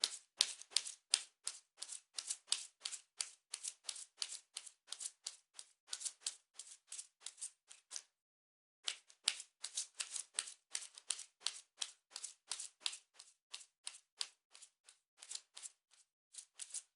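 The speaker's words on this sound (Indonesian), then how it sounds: "kartunya dikocok dulu sebelum kita mulai" A deck of tarot cards being shuffled, a long run of quick crisp riffling snaps in close steady bursts, pausing briefly midway before continuing, with no talking.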